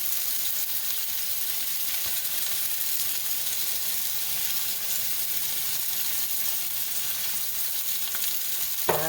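Pork chops seasoned with salt and pepper sizzle and brown in a hot pan, a steady close frying hiss throughout with no talking.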